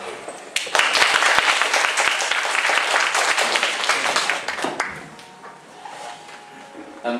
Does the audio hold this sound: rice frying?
no